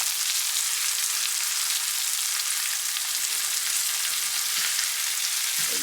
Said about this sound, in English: just 2 very small onions sliced and fried up in the bacon grease that I used.